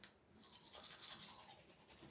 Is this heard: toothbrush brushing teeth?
yes